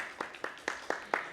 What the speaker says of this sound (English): Let's give him a round of applause first.